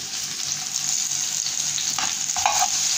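Chopped garlic and onion sizzle steadily in a hot pan of oil while being stirred, with brief louder crackles near the end.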